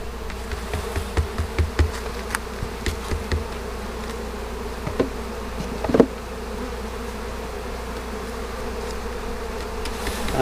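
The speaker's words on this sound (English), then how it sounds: "take all these bees back off of here." A dense swarm of honey bees hums steadily around an opened hive as it is being inspected, with light knocks and taps of equipment scattered through the drone and no talking.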